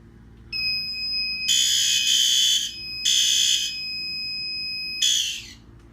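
A fire alarm sounder tested during a maintenance walk test of a home smoke detector system, with three loud shrill electronic bursts separated by pauses over a steady high tone.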